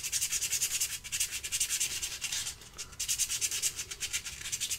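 Coarse 100-grit sandpaper rubs on wood during woodturning of a biscuit cutter, making a steady, fast, rhythmic hiss of scraping strokes that stays close and continuous, with one brief pause partway through.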